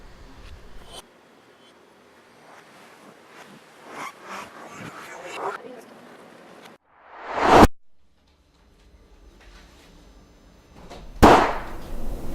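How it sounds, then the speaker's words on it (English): Two sharp, loud gunshot-like bangs several seconds apart inside a building, separated by quieter stretches with indistinct movement and voices. "Sounded like a gunshot."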